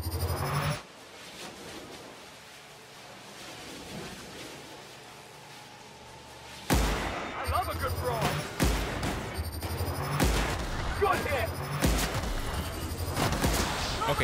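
Gunfire in The Outer Worlds, a sci-fi shooter game: a steady rumbling backdrop gives way after a few seconds to repeated loud, sharp shots in quick bursts that carry on to the end.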